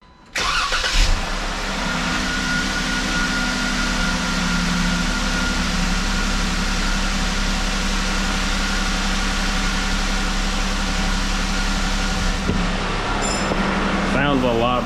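A Jeep JKU with a newly replaced idler pulley and tensioner starts up and settles into a steady, loud idle, the engine droning evenly close by for over ten seconds.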